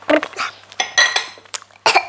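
Cookie dough for a jumbo chocolate chunk cookie being mixed in a bowl, giving a few irregular bursts of clinking and scraping of utensil against the bowl with short pauses between them.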